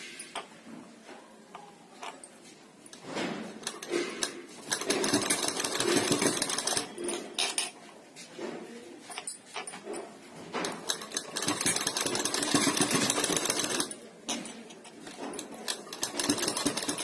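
Sewing machine stitching a sleeve in rapid bursts, a fast mechanical rattle that starts and stops several times with short pauses between runs, close and fairly loud.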